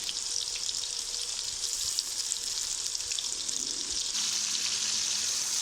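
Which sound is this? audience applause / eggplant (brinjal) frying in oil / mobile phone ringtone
eggplant (brinjal) frying in oil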